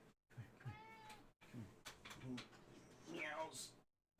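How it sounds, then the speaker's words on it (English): A cat meowing in a video game, several short mewing calls mixed with someone talking over them at low level. "This cat's becoming an issue. He doesn't meow like he's supposed to."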